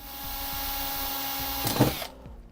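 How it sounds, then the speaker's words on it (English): A power drill bores a pilot hole into the dash of a 2016 Freightliner motorhome, a steady close whine that ends abruptly after about two seconds with a brief louder burst. "we'll use this as a guide to make a pilot hole"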